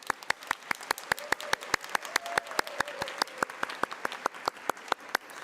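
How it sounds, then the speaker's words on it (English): Sparse, evenly spaced claps from a small audience at an International Day for Biodiversity celebration held at a United Nations office in Nairobi, sounding like a handful of people clapping in a steady rhythm with no talk. "Let's have a round of applause."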